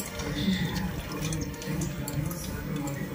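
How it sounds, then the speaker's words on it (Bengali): Water poured into a pressure cooker for cooking chana dal, a steady splashing trickle throughout, with a voice talking over it. "এখানে নিয়ে নিয়েছি আমি প্রেসার কুকার, তার মধ্যে দিয়ে দিলাম জল আর দিয়ে দেবো ছোলার ডাল"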